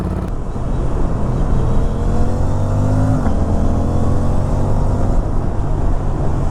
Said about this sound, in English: This exhaust is very quiet with the DB killer.